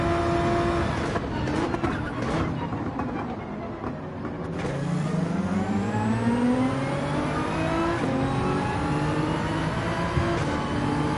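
A GTR car engine revving in a video game, heard as a continuous loud engine roar that rises and falls through gear changes across the whole stretch, with no talking.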